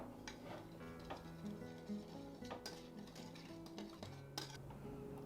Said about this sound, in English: I'm going to mix all of our dry ingredients together.